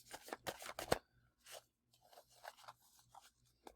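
Rune stones or cards shuffled for a spiritual reading make soft close rustling and scraping, a few quick bursts followed by quieter intermittent rubs.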